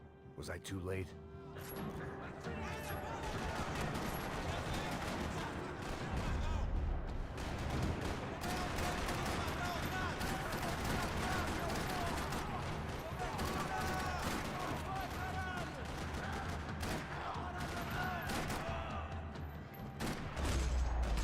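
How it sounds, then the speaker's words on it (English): Max Payne 3 gunfire rattles in rapid bursts and scattered shots in a parking lot, with a dense, busy backdrop throughout. "Another parking lot rattling with gunfire."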